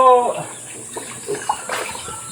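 Water being poured to bathe backyard animals, a short close splash and trickle at moderate loudness that fades into quieter dribbling.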